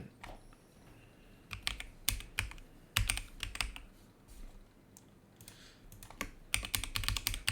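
Keys clatter on a computer keyboard as a username and password are typed in bursts of quick, close clicks separated by short pauses, with no talking.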